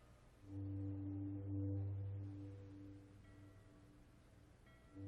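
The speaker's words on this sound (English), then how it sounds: "Just listen to that awful foghorn and the bells." A deep, droning foghorn blast swells and holds for a few seconds, then fades into a quieter low hum, with faint higher ringing of bells near the end.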